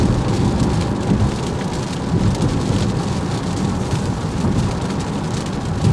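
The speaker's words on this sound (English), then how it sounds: "But it's raining." Heavy rain pours steadily with thunder rumbling low underneath, a dense, loud, continuous wash of sound with no voices.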